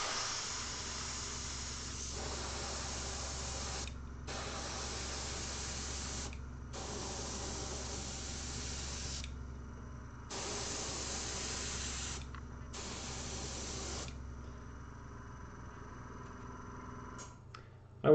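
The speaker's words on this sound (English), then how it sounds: "the airbrush aiming a stream of air that you can't necessarily see very well at your model" Airbrush spraying paint onto a dark primed model, quiet hissing bursts of a few seconds each, five in a row separated by short pauses under a low steady hum, ending with a faint click.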